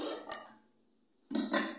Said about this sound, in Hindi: जहाँ चार बर्तन रहेगा वहाँ तो आवाज देगा ही